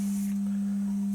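A steady 200 Hz test tone from a signal generator plays through an 8-inch Focal speaker, a single pure hum held constant and fairly quiet throughout.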